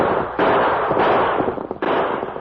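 Gunshots ring out in an old-time radio western shootout as outlaws hold up a stagecoach: three broad, booming cracks with reverberant tails, loud and close, with no voices.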